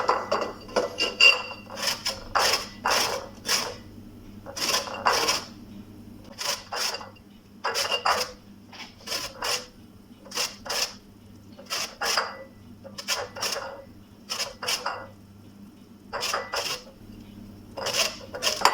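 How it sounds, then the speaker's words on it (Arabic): Orange peel is rasped on a grater in quick, regular scraping strokes, about twenty close, crisp bursts with brief pauses between them in a quiet kitchen. "توا باش نبدا نبشر القشرة متاعها"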